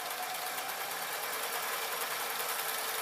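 A sewing machine stitches a seam along fabric for a toy parachute, a steady, even whirring hum held close and continuous for the whole stretch, with no voices.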